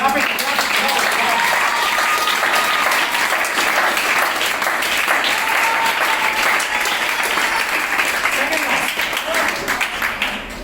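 Sustained, dense audience clapping at a school education event, loud and even for about ten seconds before tapering off slightly at the end, with murmured voices mixed in.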